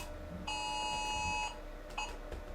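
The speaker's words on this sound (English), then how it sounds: "Amber alert on my phone." An emergency Amber Alert tone going off on a phone: one loud, steady electronic beep held for about a second against low room noise, followed by fainter stray sounds.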